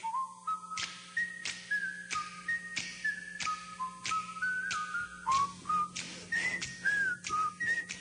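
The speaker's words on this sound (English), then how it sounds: "I shouldn't eat crackers in the studio and try to whistle that" Someone whistles a lilting tune, note after note, close and clear, with faint ticking and a low hum underneath.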